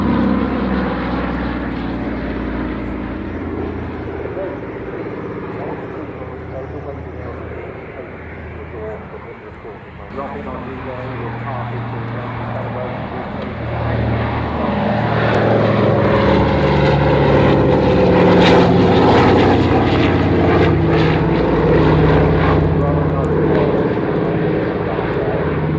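A Dakota propeller aircraft takes off from runway 02, its engines droning steadily and swelling louder about two-thirds through as it powers away, with voices talking over the sustained roar.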